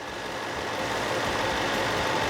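A 5-litre V8 engine running on LPG gas, idling evenly with a steady, continuous low rumble close by, with no voices.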